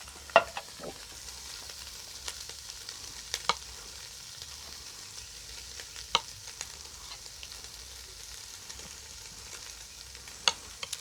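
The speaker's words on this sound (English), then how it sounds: "Oh, I can hear the sizzle." Jalapeno Spam fries in a pan with a soft, steady sizzle, close but quiet, broken by occasional sharp pops and crackles.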